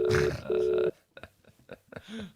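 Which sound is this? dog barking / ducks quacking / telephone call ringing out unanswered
telephone call ringing out unanswered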